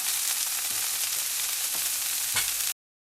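Beef cutlets with cheese and ham fry in a pan over moderate heat, giving a steady close sizzle with a few soft pops, no voices, before cutting off abruptly.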